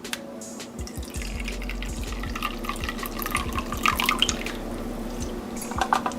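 Warm water poured into a bowl for yeast, a close run of splashing and dripping with irregular trickles over several seconds, under a low steady background hum.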